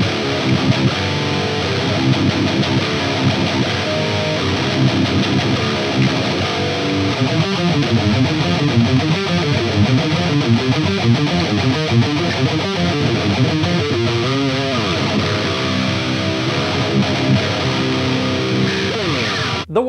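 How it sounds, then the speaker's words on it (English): Heavily distorted electric guitar played through a Boss GT-1000 multi-effects unit on a Bogner Uberschall amp patch, a dense continuous high-gain riff with chugging low notes and shifting chords, loud and close throughout with no talking. "Here's a patch that I built with a Bogner Ubershall amp."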